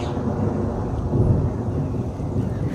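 A loud, heavy rumble of thunder rolls through a village during a thunderstorm with rain, sustained and booming for several seconds with no talking.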